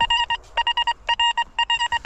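Metal detector sounding a high-pitched electronic beeping signal during treasure hunting behind old houses, rapid clusters of short clean tones in bursts with brief gaps, loud and close with no talk.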